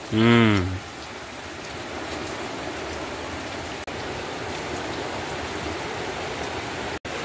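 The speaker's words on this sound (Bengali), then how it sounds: "বাইরে প্রচন্ড বৃষ্টি" Heavy rain pours steadily outside during a Bijaya Dashami gathering at home, a dense, even hiss that continues unbroken after a short voice-like tone at the start.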